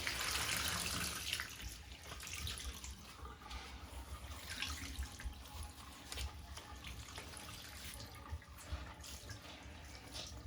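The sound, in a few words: water squeezed out by hand crank laundry wringer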